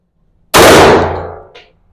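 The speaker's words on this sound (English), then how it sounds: "from the Springfield XDM Elite. And we'll shoot 5 rounds." A single loud, sharp metallic clang from a Springfield XDM Elite 10mm pistol round striking a steel target about 17 yards downrange. A bright ring decays over about a second, and a faint second ping follows.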